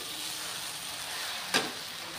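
Okra (bhindi) with spices sizzles steadily in a frying pan while being mixed, a continuous frying hiss with one brief louder scrape or stir near the end; no voices.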